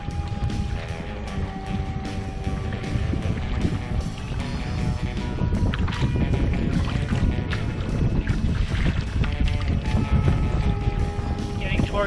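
Paddling a canoe into a headwind on Spider Lake, with steady wind buffeting the microphone and water sloshing around the hull, dense and continuous with no pauses.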